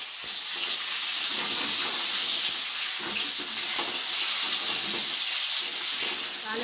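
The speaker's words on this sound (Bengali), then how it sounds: "আলুগুলো ভেজে নেওয়ার সময় দিয়ে দিয়েছি সামান্য নুন, আর দিয়ে দিচ্ছি সামান্য একটু হলুদ।" Potatoes fry in hot oil seasoned with salt and turmeric, giving a steady, close, dense sizzle with faint stirring and clinks throughout and no talking.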